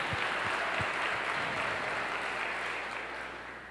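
Church congregation applauds during a Lord's Supper service, a dense roomy wash of clapping with a few low thumps near the start, fading slightly toward the end.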